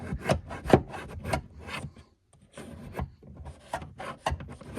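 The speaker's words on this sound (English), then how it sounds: "just get a flathead screwdriver, not a huge one, and just poke down the back here. And you're feeling for a metal tab" A flathead screwdriver pokes and scrapes down behind a car's rear seat, searching for a metal tab, giving close, irregular rubbing and scratching bursts with a brief gap in the middle.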